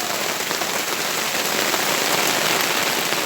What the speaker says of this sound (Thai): โอ้ยฝนตกยามนี้มันแห้งกันได้บ่